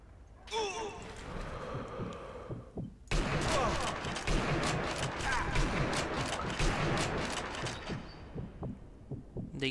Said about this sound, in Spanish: Dos tiros y se van tan tranquilos.